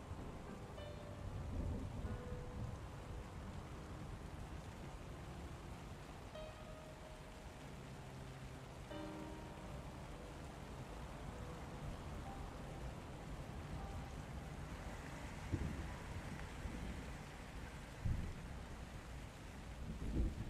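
Steady, heavy rain pours continuously in the video game Max Payne 3, with low rumbles of thunder and faint musical tones underneath.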